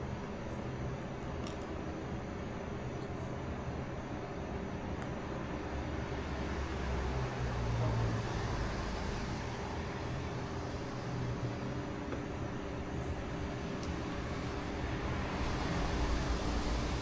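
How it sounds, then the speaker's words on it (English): Cars pass by on a nearby road as a steady, fairly quiet broadband wash of traffic noise, with a slight swell around the middle as a vehicle goes by, no talking. "when cars pass by, hopefully it doesn't blow the speakers out"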